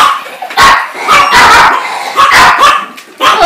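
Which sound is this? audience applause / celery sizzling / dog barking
dog barking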